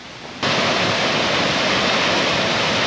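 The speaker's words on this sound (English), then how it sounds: "So we're heading to the waterfall there." A powerful waterfall in Bali roars loud and close, a dense steady rush that starts abruptly and continues unbroken.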